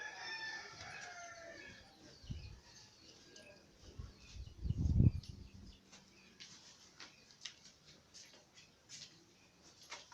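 A hen with her chicks clucks around the courtyard of an old family home in Ratnagiri, with scattered soft clucks and cheeps that are mostly faint, then a louder burst of fowl calls midway before settling down again.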